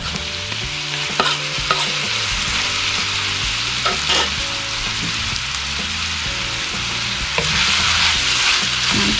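Marinated beef frying with ginger and onion in a pan, a loud continuous sizzle with repeated spatula scrapes and knocks as it is stirred, with a low humming tone underneath and no talking.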